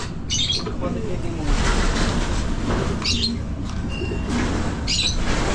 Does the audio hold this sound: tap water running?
no